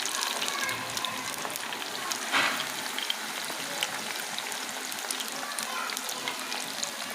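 Chicken and potatoes sizzling in a pan over medium heat for a chicken butterfly dish, a steady close frying hiss with faint stirring and one brief louder scrape, no talk.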